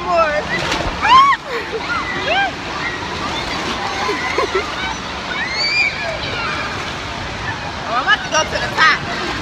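Waves splash and slosh continuously close by, with a person talking over the rushing water.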